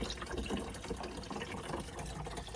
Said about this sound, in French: Donc on met 3 pichets. Comme ça on a 4 litres.